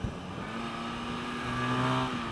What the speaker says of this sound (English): I'm just looking to see if the engine has any different power throughout its rev band